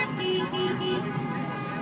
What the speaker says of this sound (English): People are honking their horns.